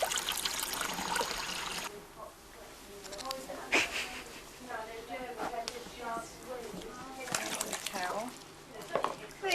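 Warm and cold tap water runs and trickles into a container at a wildlife rescue, a steady watery stream under intermittent speech, with faint chirping from a bird nearby.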